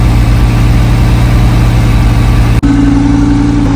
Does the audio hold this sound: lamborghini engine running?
yes